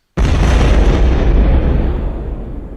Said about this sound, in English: we get the explosion